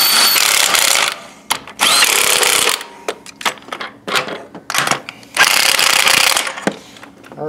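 Power tool tightening bolts on a Honda 1.7L engine with a 17mm socket during timing belt and water pump work, loud whirring bursts separated by short clicks and clanks.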